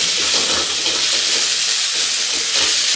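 A spice paste with ginger and finely chopped curry leaves sautéing in a pan over medium heat for mirchi vada, a loud, steady hissing sizzle that fills the whole stretch, close up and without talk.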